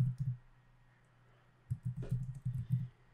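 Quiet typing on a computer keyboard with a short run of soft, close key clicks, a pause, then another longer flurry of keystrokes over faint background hum.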